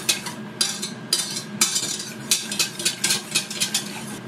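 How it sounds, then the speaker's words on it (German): A whisk stirs sauce in a pot while making currywurst, giving a series of quick, bright scraping and clinking strokes in irregular bursts, close and fairly loud. "Ich nehme mir jetzt mal einen Schneebesen, damit kann ich das alles noch mal ein bisschen besser verrühren hier."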